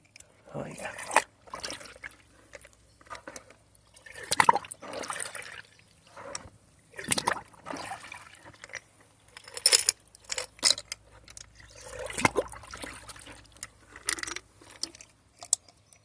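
Liquid is poured in and out of a container to flush old car coolant parts, with a series of short sloshing pours and trickles separated by pauses, fairly faint and close.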